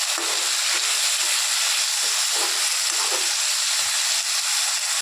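Onion, tomato and green chilli sautéing in a hot pan, a loud, dense, continuous sizzle close up with faint stirring knocks beneath, no speech.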